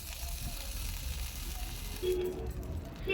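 Steady soft sizzling of Bengali five-spice seeds frying in hot oil in a wok, continuous and close, with a couple of faint clinks near the end.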